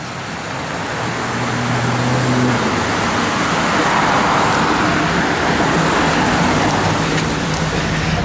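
1980 Chevrolet Camaro engine revved up from idle, a steady loud roar with a rising note early on, heard close against broad traffic-like noise and no talking.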